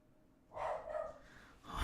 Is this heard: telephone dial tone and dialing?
no